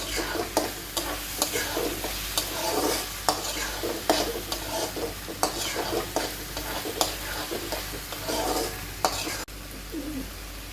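Prawn masala sautéing in a pan, a steady sizzle broken by rhythmic scraping stir strokes at close range, continuing for several seconds before a brief drop near the end.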